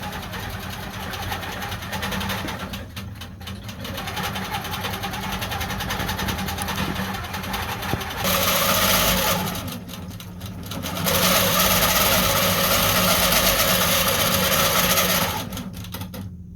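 An embroidery machine stitches out a custom border with a steady mechanical rattle and hum over more than sixteen seconds, close and loud, with a few brief pauses and changes in pace.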